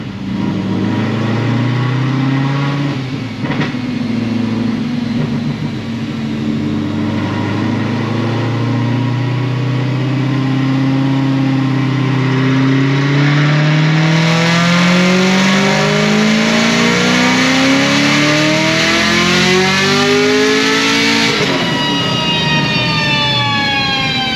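A Procharged Chevrolet Camaro ZL1 runs on a dyno, its supercharged engine climbing loudly and steadily through the revs in one long pull, with the supercharger whine rising sharply near the top before the engine backs off.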